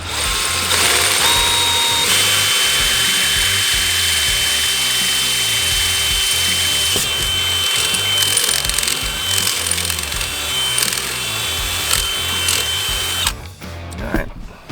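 Drilling a bolt hole for a Harley-Davidson kickstand extension: a power drill whines steadily and loudly for about thirteen seconds, with slight pitch changes as it bites, then stops, followed by handling noises.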